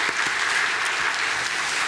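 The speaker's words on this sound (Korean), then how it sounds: "우리 다 같이 한번 박수로 환영하시기 바랍니다." A church congregation at a Sunday worship service warmly applauds two newly baptized women, a full, even roar of clapping from many people that fills the room without pause.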